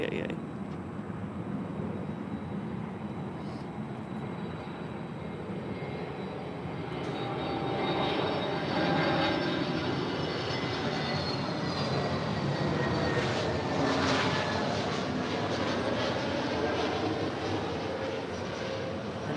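An American Airlines Airbus A321neo jet rumbles steadily at LAX, its engine roar swelling partway through and staying loud, with voices talking over it.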